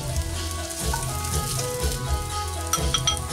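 Onions and bacon sizzle steadily in a pan, a close, continuous crackle and spatter with no voices over it.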